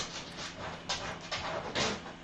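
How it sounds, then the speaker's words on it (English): Dog noises, soft whimpers and panting, come in a few brief breathy bursts at a low, faint level, with no talking alongside. "Cue dog noises."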